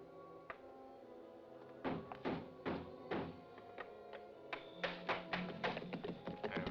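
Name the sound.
men breaking a door down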